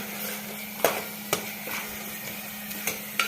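Chilli powder, turmeric and Kashmiri red chilli powder fry in oil in a pan for a fish curry, giving a steady soft sizzle broken by several sharp clacks of a spoon stirring against the pan.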